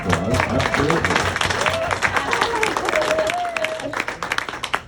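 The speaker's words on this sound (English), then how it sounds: "You can give him a round of applause." Applause rolls through a hall at a high school hall of fame induction, dense clapping with crowd murmur and a voice speaking over it before it thins out near the end.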